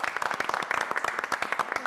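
A small group on a Turkish reality-show set claps briefly, a quick, moderately quiet patter of hands lasting under two seconds.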